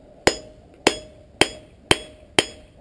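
Hammer blows on high carbon steel being forged into a slot punch ring out at a steady, even pace, five sharp metallic strikes with short decays in between.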